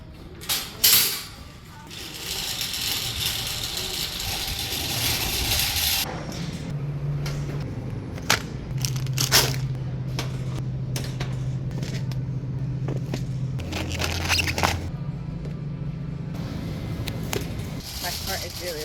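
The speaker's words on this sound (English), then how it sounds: "My car is really loud" A loud car drives along on a grocery run, its engine and road rumble continuous and close, with a few knocks and clunks over the steady noise.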